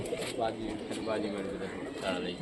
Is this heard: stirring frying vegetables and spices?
no